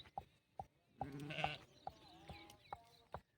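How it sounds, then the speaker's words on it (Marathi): A flock of about a hundred sheep bleat repeatedly nearby, short wavering cries coming one after another, with a longer, louder bleat in the middle and no talking. "आता जवळजवळ शंभर मेंढ्या आहे त्यांच्याकडे"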